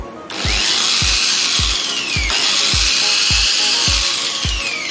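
An ALDO 501 polisher spins at its lowest speed, a steady high whine from the motor with a soft, regular thump about twice a second, close and unbroken throughout.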